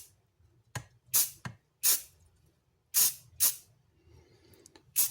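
Bursts of a spray paint can laying down a light coat, several short hissing sprays of varying length with brief gaps between them, close and fairly loud.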